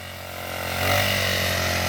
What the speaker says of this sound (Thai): เอาเร่งเครื่องหน่อย